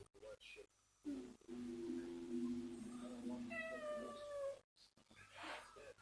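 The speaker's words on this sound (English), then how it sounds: "There's our cat." A pet cat meows in drawn-out, wavering calls close to the microphone indoors, a low long cry followed by a higher, more tonal one, with brief room noise and handling between.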